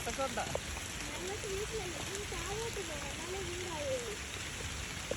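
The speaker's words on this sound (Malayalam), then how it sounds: "നല്ല ഉഗ്ര മഴ" Heavy rain falls in the Idukki hills as a steady, dense broadband hiss throughout, with a voice talking over it.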